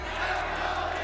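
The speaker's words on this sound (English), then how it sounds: "there was a lot of Aspas fans in here" Dense roar of fans in an esports arena at a Valorant match, a loud continuous wash of cheering voices filling the whole second with no gaps.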